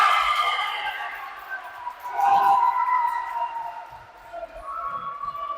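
A long whistle or siren signals the end of an under-10 youth football match, a sustained tone that rises and falls over crowd noise and cheering outdoors.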